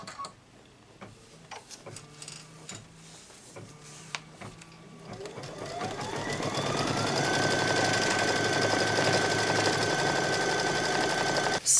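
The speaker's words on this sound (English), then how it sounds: "So now the piecing template is going to stitch out on top of our batting." An embroidery machine stitches a piecing template onto batting for a quilted wall hanging. Slow, regular ticking comes first, then the machine speeds up into a steady, loud mechanical whir with rapid stitching.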